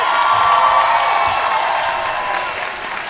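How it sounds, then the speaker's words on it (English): Crowd applause at a college commencement event, with cheering and whoops, loud and dense at first, then gradually thinning out. "let's have a round of applause"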